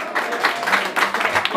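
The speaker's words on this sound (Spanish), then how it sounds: "Un aplauso, que se escuche fuerte, familia." Applause from guests at a birthday party with a mariachi band, a dense spatter of clapping with voices mixed in throughout, fairly loud and steady for under two seconds.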